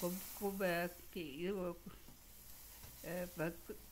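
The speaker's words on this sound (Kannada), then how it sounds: "ತೆಂಗಿನಕಾಯಿ ಎಣ್ಣೆಯಲ್ಲಿ ಹಾಕಿರೋದು ಒಗ್ಗರಣೆ" Steady frying sizzle of garlic tempering in coconut oil hissing in the background while a voice talks over it in short bursts.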